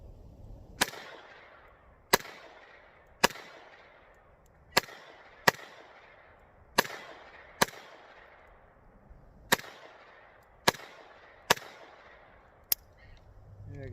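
A Phoenix Arms .22LR pistol firing about eleven sharp, close single shots at uneven intervals of roughly a second, each crack followed by a brief decay, with quiet gaps and no talking between shots.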